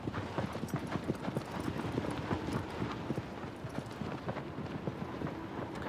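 Horse galloping in Shadow of the Colossus, a rapid, continuous clip-clop of hooves at a steady pace, fairly close, running throughout without talk.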